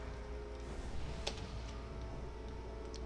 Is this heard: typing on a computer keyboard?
yes